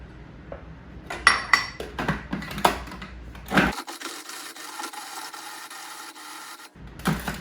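Cold, freezer-chilled shortening is worked into flour by hand, giving close, irregular scraping and rubbing strokes for several seconds, then a steadier soft hiss before one last scrape.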